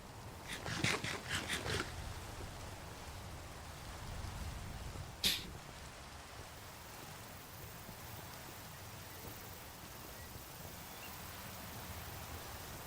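Steady rain falls throughout, a dense even hiss with a brief cluster of louder patters near the start and a single sharp drip or tap midway, no voices.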